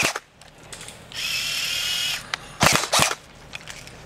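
A Tokyo Marui MP5 airsoft gun fires on full auto outdoors toward a shed, heard as a close mechanical whirring burst followed by sharp clattering rattles and clicks, with no talking.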